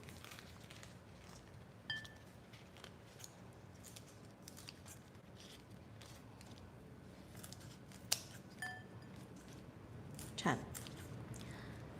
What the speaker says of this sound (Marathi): साधारण एक पाच सहा पानं मी कापून घेतली अजून एक कापूया